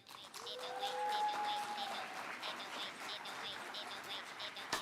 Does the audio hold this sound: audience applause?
yes